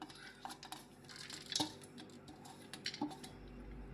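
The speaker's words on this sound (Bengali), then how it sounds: "এবার প্রেসার কুকারের মধ্যে দিয়ে দিলাম।" Washed chana dal tipped into a pressure cooker, giving a few faint metallic clinks and a brief rattle of lentils against steel, with quiet kitchen background and no talk.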